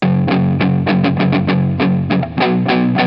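Fuzzy, distorted electric guitar chords strum in a steady rhythm through a BBE fuzz pedal with reverb, heard in mono, thick and loud, with a reverb tail on each hit.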